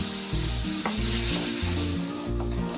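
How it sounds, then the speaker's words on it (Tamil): Ground masala paste for paneer kofta curry sizzles and fries in hot oil, a steady close crackling hiss with occasional stirring scrapes and a low humming drone beneath. "இப்போ நான் அரைச்சி வச்ச பேஸ்ட் ஆட் பண்ணுறேன்."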